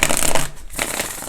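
Tarot cards are shuffled in a quick, close riffle, a loud papery flutter that breaks off briefly and then resumes.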